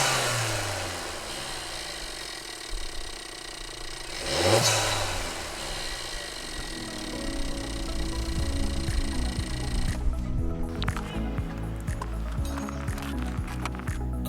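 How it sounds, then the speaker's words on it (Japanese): A Suzuki Swift Sport engine with its stock intake pipe idles, then revs up sharply, with the pitch sweeping up and back down, then settles into a steady running rumble. "ではまず交換前のエンジン音をお聞きください。"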